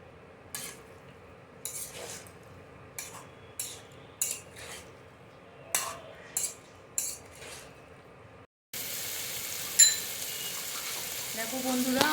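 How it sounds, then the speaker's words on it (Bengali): Fried potatoes tipped into a pan of sizzling spiced masala for niramish alur dom, with intermittent clinks and scrapes of stirring over a steady fry, and a louder, denser sizzle surging near the end. "এরপর আমরা সেই ভেজে নেওয়া আলুগুলো দিয়ে দিচ্ছি এর মধ্যে।"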